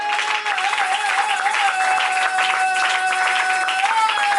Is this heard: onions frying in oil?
no